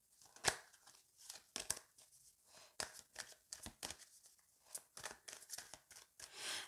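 Tarot cards being shuffled by hand, giving irregular papery riffles and slaps in short bursts, close and fairly quiet, with no talking.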